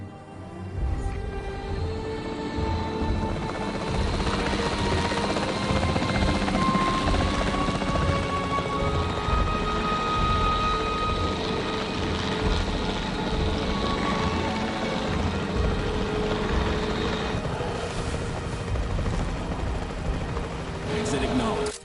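A capture team helicopter in the dinosaur park game Jurassic World Evolution 3, with continuous loud rotor chop and thrum mixed with game effects and occasional bursts, with speech also present.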